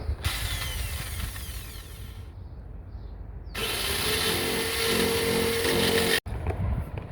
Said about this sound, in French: j'y vais avec la drill pour percer le mur extérieur